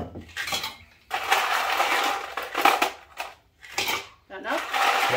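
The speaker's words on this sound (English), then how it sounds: "You want to slap some ice in there for me?" Ice is scooped and dropped into a cocktail shaker for a sweet corn margarita, giving repeated loud rattling, crunching bursts under a person talking.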